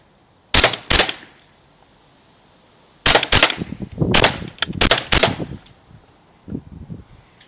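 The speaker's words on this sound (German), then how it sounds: "So, ich mache jetzt mal ein paar Schuss aus 10 Meter Entfernung" A T4E TM4 real action marker fires shots from about 10 metres: sharp, loud cracks, two close together, then a quick burst of several more, then one fainter pop, with no talking.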